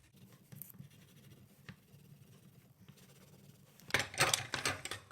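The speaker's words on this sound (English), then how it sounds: "I'll color this one while I'm at it." A marker or crayon scratches across paper while coloring fins for an art project, steady soft scribbling that grows louder and more vigorous toward the end.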